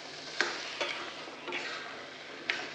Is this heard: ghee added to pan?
yes